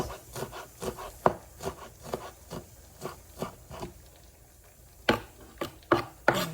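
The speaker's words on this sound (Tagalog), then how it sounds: "Slice lang tayo ng spring onions." A knife slicing freshly harvested garden spring onions on a cutting board, sharp chopping taps in an irregular rhythm, a few louder strikes near the end, close up with no voices.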